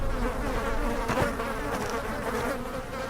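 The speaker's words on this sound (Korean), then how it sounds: "웽웽거리는 똥파리 소리" Flies in a music video buzz loudly and up close in a continuous droning whine that wavers slightly in pitch, with no speech.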